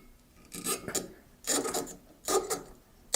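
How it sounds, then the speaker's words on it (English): A cork being worked out of a bottle of homemade lemon mead, heard as three separate squeaky, rasping bursts of friction with short pauses between them, close and fairly loud against a quiet background. "Go ahead and try and get this cork open in one piece this time."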